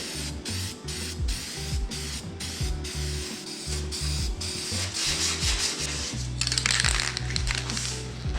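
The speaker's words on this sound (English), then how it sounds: "I'm gonna start priming up the bumper." Spray primer going onto a Toyota Tacoma off-road bumper, heard as bursts of hissing spray over a rough background of rattling and rubbing noise, with a longer continuous hiss near the end.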